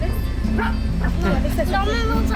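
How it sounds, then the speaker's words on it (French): Excited dog barking and yipping in quick, close bursts, mixed with people talking nearby. "notre chien qui s'excite"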